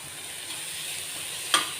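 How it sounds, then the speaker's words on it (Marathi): Spices and turmeric being stirred into a Marathi-style bitter gourd masala bhaji in a pan, a faint low sizzle with soft scraping and one brief clink of the spoon near the end. "अर्धा चमचा हळद मसाले छान असे मिक्स करून घेऊया"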